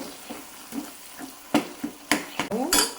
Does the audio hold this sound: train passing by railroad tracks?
no